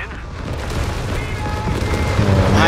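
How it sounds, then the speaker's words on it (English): Bunker defense artillery in Company of Heroes 3 rumbles through a battle, with a low booming mass that builds and grows louder toward the end, under a caster's talk. "Here comes the bunker defense artillery."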